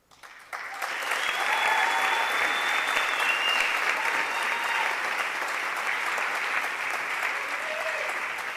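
Sustained applause from a large crowd at a high school senior awards night, rising quickly after a brief quiet start and holding steady, dense clapping throughout.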